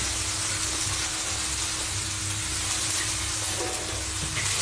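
Bean sprouts stir-fry in a hot pan with a steady, loud sizzle and hiss that carries on without a break, close by, in a home kitchen where noodles are also being cooked.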